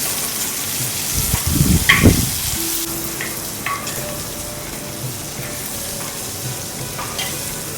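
Long beans stir-fried with salt in a pan, a loud constant sizzle with a burst of tossing and scraping early on, then steady frying with occasional spatula taps.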